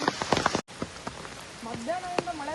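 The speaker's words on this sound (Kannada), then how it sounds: "ಮಧ್ಯಾಹ್ನದಿಂದ ಮಳೆ ಸ್ಟಾರ್ಟ್ ಆಗಿದ್ದು, ಮಳೆ ನಿಂದ್ರತಾನೆ ಇಲ್ಲ" Heavy monsoon rain during the Dudhsagar waterfalls trek, a dense steady patter of drops on surfaces close by, with a few brief voice sounds and tonal calls rising through the downpour.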